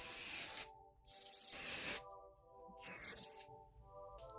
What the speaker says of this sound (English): I'm going to take the Aussie Mega Hairspray in the flexible hold